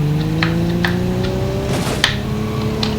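A car on a city street builds speed, its engine tone climbing steadily in a continuous, fairly loud drone, with a few faint clicks and a thump near the end.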